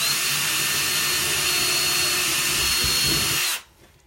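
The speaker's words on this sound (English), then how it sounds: "the last hole I'm gonna drill is just right down here at the bottom" A power drill whines steadily at close range while boring a hole through a holiday wreath, running continuously for several seconds before cutting off abruptly to near silence.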